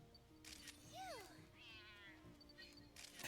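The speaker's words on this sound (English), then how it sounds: "Meowed at me." A Pokémon meows in the video game New Pokémon Snap, a faint rising-and-falling cat-like cry followed by a wavering second call over a quiet game background hum.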